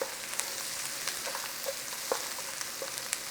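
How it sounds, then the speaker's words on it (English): Chopped garlic sizzles in a hot pan for a pasta bake, a soft, steady frying crackle with occasional sharper pops, close and alone without talking. "Nice little 30 seconds on that garlic in there, and then stir it in"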